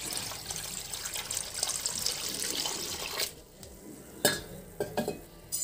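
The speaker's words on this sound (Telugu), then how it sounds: "నీళ్ళు పోసుకోవాలండి" Water poured into jaggery for panakam, a steady splashing stream for about three seconds, then a few brief sloshes and drips, close and fairly quiet with no talking.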